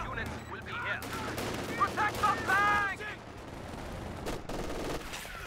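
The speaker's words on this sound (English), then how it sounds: "And machine guns jumped into this building as well, keeping these riflemen at bay now." Machine gun fire in Company of Heroes 2, a World War II strategy game, sounds as a steady rattle of bursts at moderate distance, mixed with other battle noise and a commentator talking over it.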